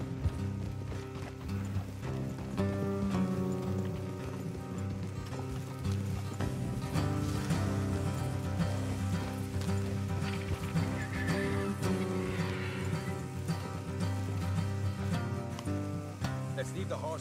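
Horse hooves in the video game Red Dead Redemption 2 clip-clop steadily at close range beneath a constant bed of music, with an occasional whinny rising over the mix.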